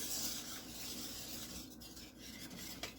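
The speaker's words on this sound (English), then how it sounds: "And we're whisking it in." A whisk scrapes and stirs cheese into a thick macaroni cheese sauce, giving a steady, close-up rasping and rubbing sound with no talking.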